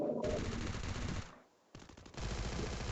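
Rapid machine-gun fire in the Free Fire mobile game, loud sustained bursts broken by a short pause and then resuming, with no voices over it.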